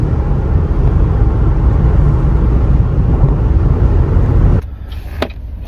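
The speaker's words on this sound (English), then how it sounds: "When the windows are down, you can hear the turbo a bit" Steady loud road and engine roar from inside a moving 2014 Cadillac ATS 2.0T AWD with open windows, a faint turbocharger whine riding on top, cutting to quiet near the end.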